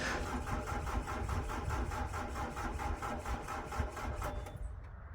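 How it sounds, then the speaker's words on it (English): An old excavator engine with glow plug trouble cranking without catching, a rapid rhythmic chugging of the starter turning the engine over for several seconds before it cuts off, fairly quiet, with no talk. "I'm going to go see if the excavator will fire up"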